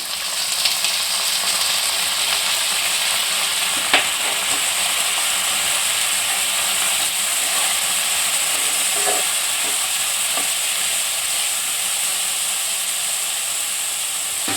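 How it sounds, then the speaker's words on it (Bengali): Washed, drained lentils tipped into a pan of frying onions, giving a steady loud hiss of sizzling oil with a few faint clicks of stirring, continuous and close, no speech. "এরপর আমি ডালটা দিয়ে দিচ্ছি, এটা আমার ধোয়া আছে, জল ঝরানো"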